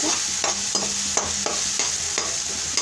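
Masala frying in oil sizzles steadily and loudly up close while a spoon stirs it, its scraping strokes landing in a regular rhythm about every half second.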